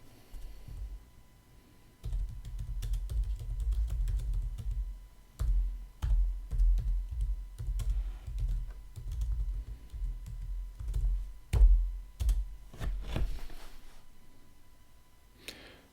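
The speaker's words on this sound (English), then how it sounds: "Now we can start typing our report." Steady typing on a computer keyboard, soft rapid key clicks in close, continuous runs with a few louder taps and brief pauses, no voices.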